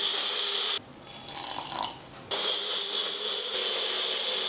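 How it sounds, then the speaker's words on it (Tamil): Water poured into a mixer grinder jar holding soaked peas for a masala puri gravy paste, a brief splashing pour in the middle of a steady background hum. "கூட கொஞ்சமாக தண்ணி சேர்த்து அரைச்சிடலாங்க."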